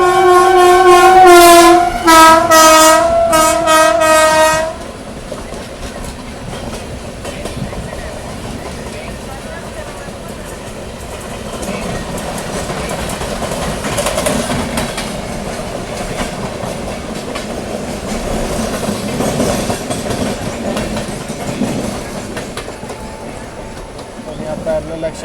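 An Intercity Express train on the Mumbai–Pune line runs through Khandala Ghat. Loud horn blasts sound near at first, then give way to a steady rumbling run with clattering wheels.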